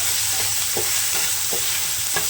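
Spice masala with coriander and chili powder fries in a pan while being stirred, for a prawn chop: a loud, constant close-up sizzle with a steady rhythm of spatula strokes roughly every few tenths of a second, no talking.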